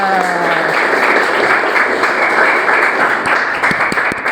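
Class audience applauding together, sustained loud clapping from a room of students with a voice briefly audible at the start and a few distinct claps near the end.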